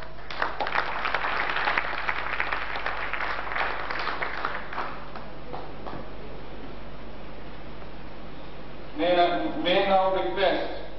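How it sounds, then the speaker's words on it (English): Applause for a senior Delhi High Court judge at a formal legal gathering, a moderate patter of clapping that fades out, followed by someone speaking. "Kindly give him big applause."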